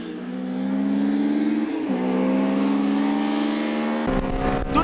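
A Honda Civic EG6 race car accelerates hard on a circuit, its engine rising steadily in pitch through the gears with a brief dip at a shift, loud and close, ending in a rough burst of wind and road noise.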